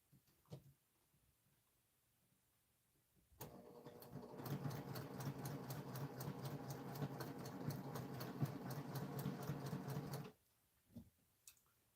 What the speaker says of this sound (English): Go ahead and sew those.